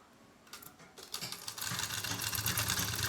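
Sewing machine set to a long stitch length running along the seam of a suit, starting with a few hesitant clicks, then building into a steady, whirring rattle that grows louder toward the end.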